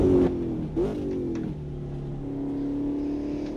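Ultima GTR race car in Automobilista 2, its engine revving and climbing through a gear change, with a brief drop in pitch before a steady drone holds near and fairly loud.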